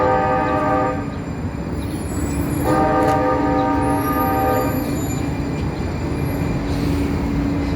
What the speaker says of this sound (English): there goes the train to Beaverton.